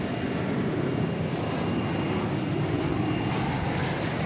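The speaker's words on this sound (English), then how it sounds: "Generally, the planes that go over to the east side for takeoff" A plane roars through its takeoff at DFW Airport at night, a loud, steady engine rumble that holds unbroken throughout, with no voices over it.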